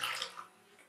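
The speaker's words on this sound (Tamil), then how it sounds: "இது கூட தக்காளியும் கொஞ்சம் புளியும் கரைச்சி வச்சு இந்த தண்ணியை ஊற்றிக்கலாம்." Tomato-tamarind water poured into a cooking pan for rasam, a brief splashing gush that is loudest at the start and then fades to a soft trickle.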